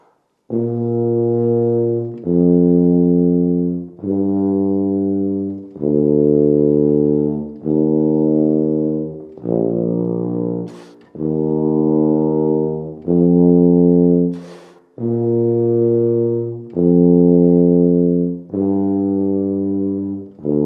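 A tuba plays the slow bass line of Pachelbel's Canon, long sustained low notes each held about two seconds, with brief breaths between them.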